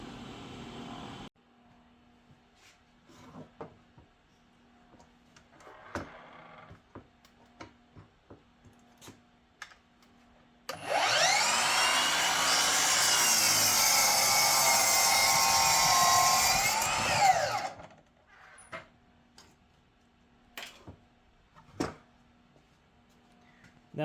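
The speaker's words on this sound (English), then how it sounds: "let's get to the miter saw and cut off one end." A miter saw cuts one end off a board for a workbench in a single loud, steady run of about seven seconds, alone between quiet stretches with faint taps and shop noise.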